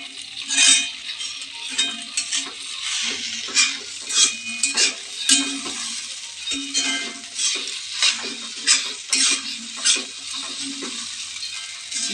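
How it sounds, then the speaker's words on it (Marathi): Poha frying in a pan while being stirred, a steady sizzle broken by repeated scraping and clinking of the spatula against the pan, close and fairly loud, with no talking. "ते 7 मिनिटे चांगले फ्राय करा. व्यवस्थित परतून घ्या."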